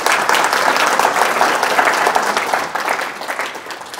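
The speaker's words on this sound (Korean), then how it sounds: "우리 권사님들 한번 박수 쳐드립시다" Loud, sustained applause from a church congregation at a family retreat worship service, honoring the deaconesses: a thick, continuous patter of many hands that thins slightly toward the end.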